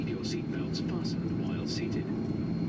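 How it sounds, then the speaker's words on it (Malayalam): A passenger airplane begins to taxi, its engines giving a steady, muffled low hum heard from a window seat inside the cabin, with faint higher whines drifting over the drone. "വിമാനം നീങ്ങിത്തുടങ്ങി."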